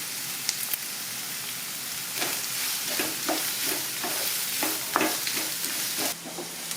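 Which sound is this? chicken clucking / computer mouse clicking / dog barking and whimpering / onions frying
onions frying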